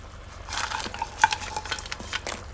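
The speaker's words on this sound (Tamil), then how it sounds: "கிராப் இதில் சேர்த்து நல்லா அந்த மசாலாவோட மிக்ஸ் பண்ணி விடுங்க." Crab pieces stirred through sizzling masala in a pan: a close, steady frying hiss with soft scraping stir strokes and a couple of light metallic clinks.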